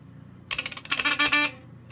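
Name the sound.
smoke alarm buzzer sounding, General Electric 8201-301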